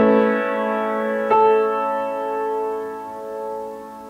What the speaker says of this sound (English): Specifically, we call that a 9/8 suspension.